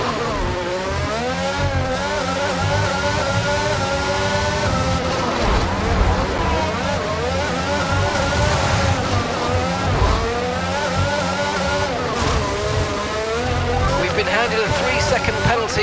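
A Formula 1 car engine in the F1 22 racing game screams steadily at high revs, climbing and dropping through gear changes across the whole stretch, loud and close, with a voice speaking over it.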